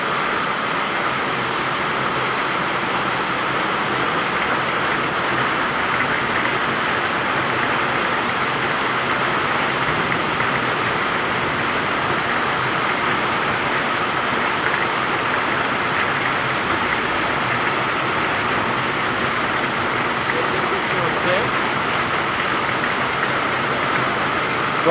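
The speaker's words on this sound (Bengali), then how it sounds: "প্রচুর বৃষ্টি হচ্ছে।" Heavy monsoon rain pours steadily in Malaysia, a dense, unbroken roar of rainfall on surfaces that stays loud and even throughout with no voices.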